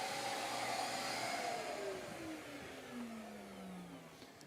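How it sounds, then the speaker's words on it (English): A BenchPilot CNC spindle whirs alongside a running shop vacuum, a steady broadband roar with a high tone that slowly falls in pitch, continuous and fairly close throughout. "go ahead and turn that spindle off, turn your vacuum off"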